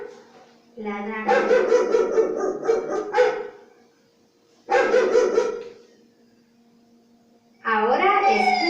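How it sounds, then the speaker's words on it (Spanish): A dog barks in three separate volleys of rapid, loud, close barks, with quiet gaps between them. "Este es el sonido de un perro"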